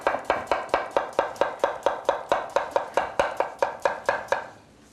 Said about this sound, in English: we'll just cut with our knife going straight down